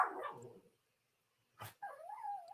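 Spoiled pet dogs give a short yelp after a moment of silence, followed by a rising, wavering whine that carries on alone close by.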